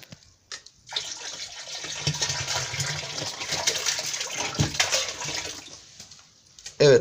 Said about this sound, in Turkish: Evet, balığımız havuzumuza atladı.